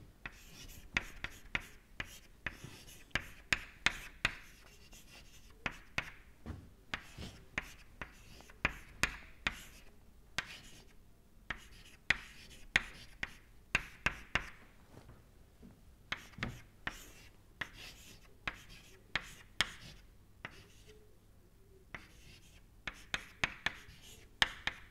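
Chalk or pen writing during an engineering lecture on control volume mass and energy balance, heard as steady scratchy strokes in irregular bursts of short taps and scrapes, fairly close, with no speech over it.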